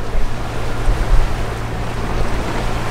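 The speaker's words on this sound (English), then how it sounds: "we're motoring because we can't go very fast in 4 or 5 knots of wind" A catamaran motors at sea in light wind, a steady low engine drone with water rush and wind buffeting the microphone, continuous and close.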